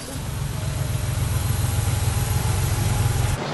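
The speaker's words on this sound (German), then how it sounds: "Mach mal den Motor aus, ich verstehe ja gar nicht." An Opel Manta engine runs steadily and close by, a loud continuous low rumble with even pulsing throughout, briefly dropping away near the end.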